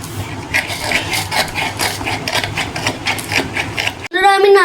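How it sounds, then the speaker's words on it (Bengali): Palm fruit being pulled across a grater to draw out its pulp, a steady rough rasping of repeated strokes close by, ending in a brief different sound. "নিয়ে গ্রেডার দিয়ে পালটা বার করে নেব"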